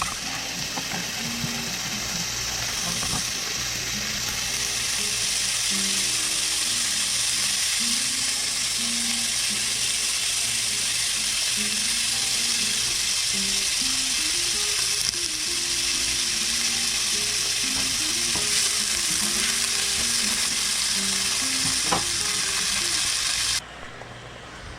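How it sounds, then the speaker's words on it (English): Slices of steak for Pennsylvania-style cheesesteak subs fry in a pan, a steady loud sizzle and crackle that runs unbroken with no talking. "we're going to go ahead and let that steak cook down until it is all brown"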